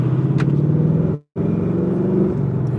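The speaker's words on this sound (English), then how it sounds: "Car's running well." A Ford Mustang GT with the Coyote V8 drones steadily while driving, a deep, close rumble that cuts out abruptly for a split second midway before resuming.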